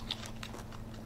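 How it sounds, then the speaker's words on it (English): One crisp bite into a very crunchy, firm egg roll, followed by brief crackling chews, heard close and fairly quiet over a low steady room hum. "The egg roll itself, really, really crunchy, really, really firm."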